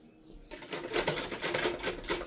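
A tailoring sewing machine stitches fabric for a three-layer dress, starting abruptly after a short quiet moment and running in a fast, steady rattling stream close by, with no talking over it.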